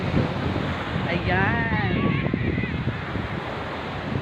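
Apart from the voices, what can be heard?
sea waves and wind at the beach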